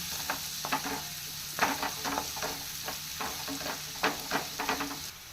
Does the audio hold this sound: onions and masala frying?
yes